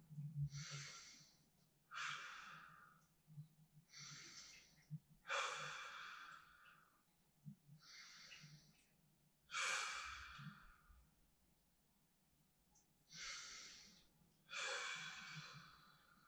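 Slow, deep breaths during a neck stretch in a short relaxation routine, audible inhales and long sighing exhales repeating about every two seconds, soft and close with quiet pauses between.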